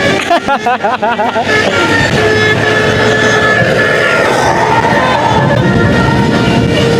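A heavy tour bus engine roars loudly and steadily close by as it accelerates, following a short burst of telolet horn notes at the start.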